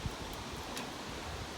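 Wind gusts outdoors beside a river on a cloudy day, a soft broadband rush with a few brief louder puffs buffeting the microphone and no voices.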